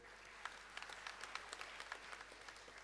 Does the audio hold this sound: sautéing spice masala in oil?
no